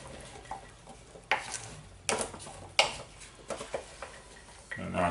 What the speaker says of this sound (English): let's just get all this veg stirred together. Get all this mixed through first.